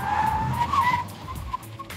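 Tires of a 2018 Chevrolet Bolt Premier or 2018 Volkswagen e-Golf skidding during an obstacle avoidance test, a loud, wavering squeal lasting about a second that tapers into fainter chirps with light road rumble.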